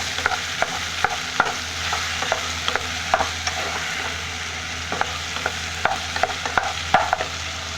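Ridge gourd pieces fry in oil for a curry, with a constant low sizzle and quick, regular scrapes and taps of a spoon stirring them in the pan.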